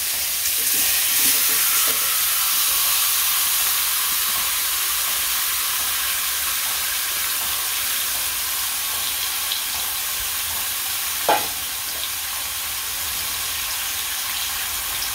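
Meat frying in a pan, a steady, dense sizzle and hiss of hot oil running continuously and close, with one brief clink of a utensil near the end and no voices.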